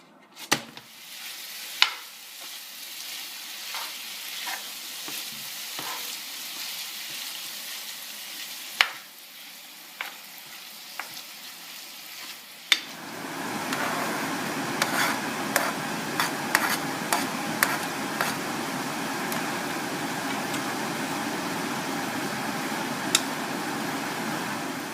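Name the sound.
meat and onion strips frying in oil in a pan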